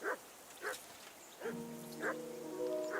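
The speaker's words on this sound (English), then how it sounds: "Jesus, Henry, that barking's driving me nuts" A dog in the video game Kingdom Come: Deliverance II barks repeatedly, sharp yips about every half second, fairly close, over a steady bed of game music.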